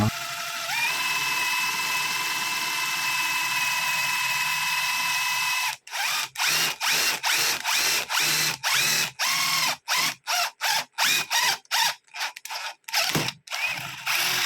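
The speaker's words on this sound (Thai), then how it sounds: "ต่อไปก็มาเจาะเหล็กนะครับ ผมก็จะใช้ความเร็วระดับที่สอง" A Stanley FatMax SBI820 cordless impact driver on its second speed whines steadily at close range, then breaks into rapid stop-start bursts, about a dozen short whirring pulses as it drills through steel.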